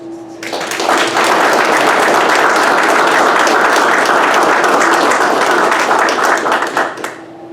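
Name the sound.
round of applause at a graduation ceremony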